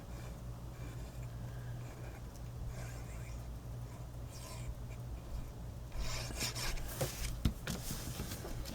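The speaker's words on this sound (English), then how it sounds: "I'm just going to run my bone folder over those" A bone folder rubs firmly back and forth over the creased folds of a paper pumpkin gift box, a soft dry rasping under a low steady hum that turns louder and scratchier toward the end.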